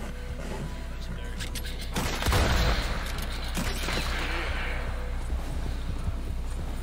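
Gunfire in the Red Dead Redemption 2 video game, a burst of shots around the two-second mark amid hoofbeats and ambient game sound, fairly faint overall.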